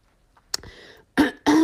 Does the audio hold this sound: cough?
yes